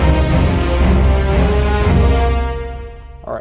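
The B section of a battle track from Final Fantasy VII plays as loud, dense orchestral game music with short strings, sustained for a few seconds before fading away.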